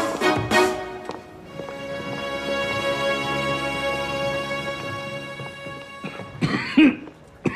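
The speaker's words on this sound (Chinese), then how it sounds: "你怎么咳嗽了？" Someone in a crime drama scene coughs a few sharp, close times at the start. A sustained musical score then plays, and more harsh coughs or throat-clearing sounds break in near the end.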